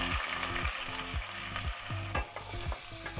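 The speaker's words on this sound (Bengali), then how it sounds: "পেঁয়াজটা হালকা সোনালি করে ভেজে নিতে হবে" Chopped onions frying in oil with cinnamon, small cardamom and cloves for a Bengali stingray curry, a steady close sizzle with repeated stirring scrapes in an even rhythm, no voices.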